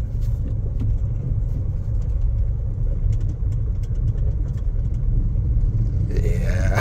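A Suzuki Karimun car drives along, its engine giving a steady low rumble that climbs as the driver shifts up through the gears, with a brief rise in noise near the end.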